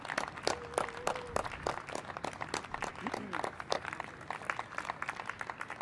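Sparse applause from a small audience after a live concert set by electronic and experimental musicians, a scatter of individual claps ringing out in a quiet hall.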